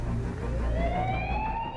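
A fire truck siren wails past, its rising tone sweeping upward steadily, loud and close over a low rumbling engine, with no one speaking.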